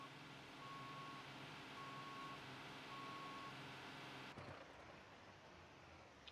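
A fire engine reversing, its beeper sounding in three evenly spaced tones over a steady rumbling engine, the noise cutting off abruptly near the end.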